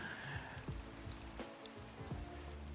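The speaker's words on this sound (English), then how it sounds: "man, this rain is just so annoying." Rain falling in a video game, a soft, steady patter filling the whole stretch at low volume, with a few faint thuds under it and no talking.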